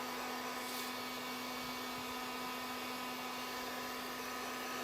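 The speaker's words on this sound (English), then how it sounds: "you can hit it with the heat gun" A heat gun blowing steadily to speed the curing of registration keys, a loud continuous close airflow roar with a steady hum and no talking.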